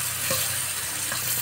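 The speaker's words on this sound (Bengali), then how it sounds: "এবার আলাদা কড়াইতে মশলাটাকে ভালো করে কষিয়ে নেবে।" Spice masala frying and being stirred in a separate wok, a steady close sizzle with a few soft stirring scrapes throughout, no voices.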